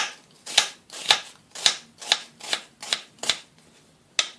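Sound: knife chopping onion on a cutting board

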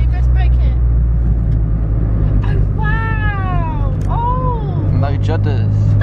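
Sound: Citroen C1 car driving and braking

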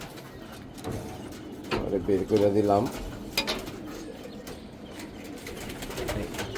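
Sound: pigeons cooing

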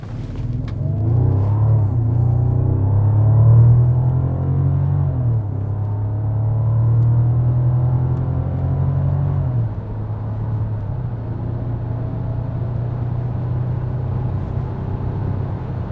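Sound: luxury car driving

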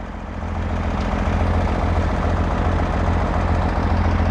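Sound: tractor engine pulling a watermelon trailer

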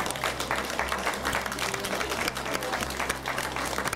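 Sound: applause for the kindergarten director

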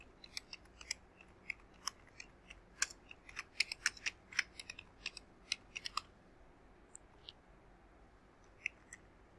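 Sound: typing on a computer keyboard

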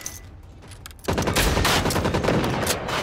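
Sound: gun firing in video game Generation Zero

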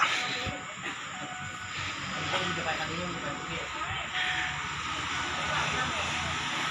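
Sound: local train 408 arriving at Chum Saeng station

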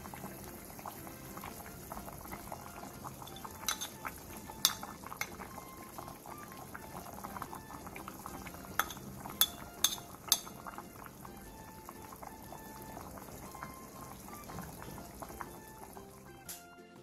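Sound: bean curd stew (biji jjigae) boiling in a pot

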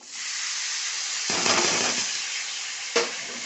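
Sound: sprouted pulses (ghugrya) added to garlic tempering, stirred in pan

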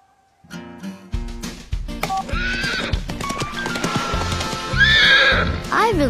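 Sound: horse neighing in Bubble Guppies cartoon

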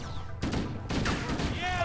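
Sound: gunshots from Halo: Combat Evolved video game

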